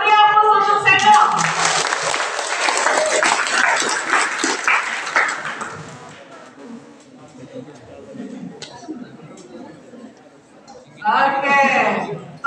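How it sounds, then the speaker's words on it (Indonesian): An audience at a university guest lecture gives Seno a round of applause: dense clapping and cheering for about five seconds that fades into quiet room noise, followed by a speaker's voice. "Kita beri aplaus untuk Seno."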